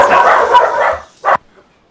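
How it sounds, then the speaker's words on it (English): A dog barks in the background during a noisy, rough stretch, then lets out one short, sharp bark before the sound falls quiet. "Oh, somebody else has dogs."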